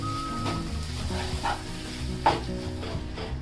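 Ground green chickpeas fry in hot oil with a soft, continuous sizzle while a spoon scrapes and stirs the masala in a few gentle strokes, fairly quiet and close, with no talking.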